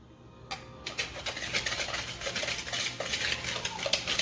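Egg yolks and sugar being mixed in a bowl, a quick, rhythmic clatter of a whisk or utensil against the bowl, close and continuous after a brief quiet start.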